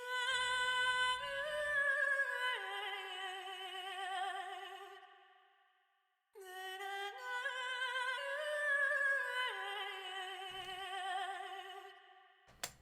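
A sustained, layered ethnic vocal sample from Ethnic World 6 voices, with gliding pitches, plays over a sparse beat, cutting out abruptly midway before returning, clearly chopped.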